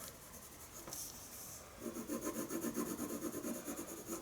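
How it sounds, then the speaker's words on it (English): An ivory colored pencil burnishes a curly fur drawing on paper. It opens as a faint scratch, then turns into a close, rhythmic back-and-forth rubbing of quick even strokes, with no one speaking. "So I'm already doing a bit of burnishing with the ivory itself."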